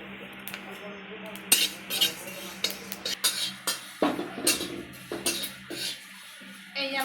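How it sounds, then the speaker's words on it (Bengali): Panch phoron spices are dry-roasted in a hot kadai, with a metal utensil repeatedly scraping and clinking against the wok in irregular strokes. A faint sizzle sits beneath the close clatter. "আমি কড়াই গরমের মধ্যে একটু পাঁচফোড়ন শুকনো খোলায় কড়াইয়ে ভেজে নেব"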